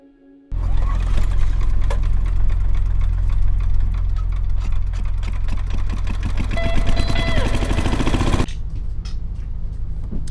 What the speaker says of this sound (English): My generator gave up. Now it's back on.